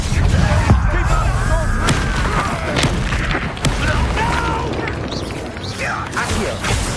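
Bombarda and Confringo spells explode during a fight in the Hogwarts Legacy video game: several loud, sharp booms and cracks land amid busy combat noise, with voices talking over the action.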